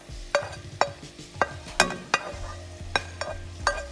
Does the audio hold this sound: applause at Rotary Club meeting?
no